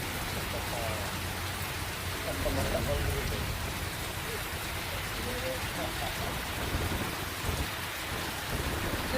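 Heavy rain pours down in a steady, dense hiss that stays loud and unbroken throughout.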